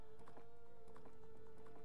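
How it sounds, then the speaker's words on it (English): Epona, the horse in Zelda: Ocarina of Time, trots with quick, light clip-clopping hoofbeats in a repeating rhythm over quiet background music, faint and without talk. "She's this horse. Her name is Epona."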